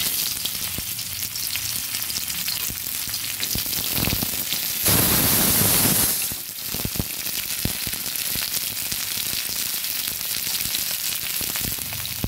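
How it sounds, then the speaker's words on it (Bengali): Bitter gourd frying in hot oil in a wok, a steady dense sizzle throughout that swells louder for a moment midway as the pieces hit the oil, with occasional stirring scrapes and no talk. "কড়াইতে তেল দিয়েছি, আমি উচ্ছেগুলো দিয়ে দিচ্ছি।"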